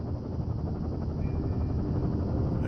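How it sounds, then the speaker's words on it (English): Helicopter arriving in the video game Firewatch, a steady, loud low rotor drone that holds evenly throughout with no voices over it. "There's the helicopter."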